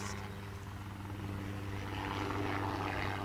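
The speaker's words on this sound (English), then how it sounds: "there's a helicopter" Helicopter rotor and engine drone holding steady close overhead, a loud continuous low thrum heard from a high viewpoint on a walk looking out over Croydon and London.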